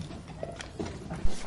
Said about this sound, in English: The first scene they're filming is on a horse and carriage.